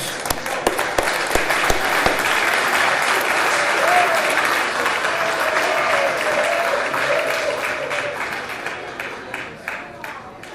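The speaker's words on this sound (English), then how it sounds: "one more round of applause for our 5 years" An audience at a presentation applauds steadily for about ten seconds, dense clapping holding at an even level before thinning out at the end.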